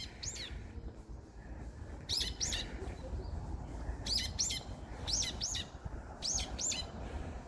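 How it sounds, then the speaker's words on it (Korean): Small birds chirp outdoors near apartment blocks in Seoul on a hazy December day, giving paired bright tweets at regular intervals over a low background rumble of distant city noise. "그래도 새소리는 맑게 들립니다."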